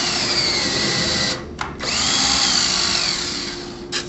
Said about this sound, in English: Or you can countersink it